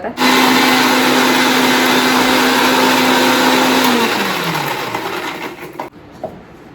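A kitchen mixer grinder whirs loudly and steadily as it purees vegetables for a besan batter, then winds down and stops near the end with a brief clatter.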